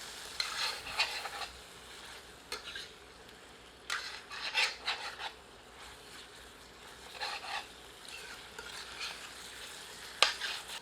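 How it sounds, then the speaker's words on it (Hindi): Spice masala fries in oil for a goat curry, giving a soft continuous sizzle broken by repeated scraping bursts from a spoon stirring against the pan. There is no speech. "जब मसाले से तेल पृथक होकर दिखने लगे, तो उस समय से 3 से 4 मिनट और भूनें।"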